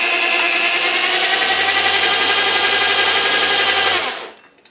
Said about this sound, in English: It's got a drill motor drive.